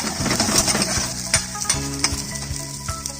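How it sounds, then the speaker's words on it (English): Onions, garlic, carrots, bay leaf and peppercorns sauté in a pot for a thick soup, giving a close, lively sizzle broken by repeated knocks and scrapes of a stirring utensil. "Saute for a couple of minutes."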